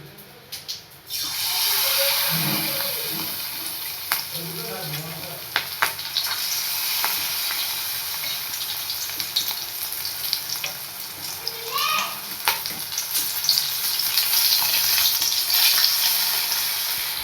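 Coated prawns frying in a kadai of oil, a loud continuous hiss and crackle that swells after an opening moment of quiet, with scattered pops and occasional utensil clinks, no talking.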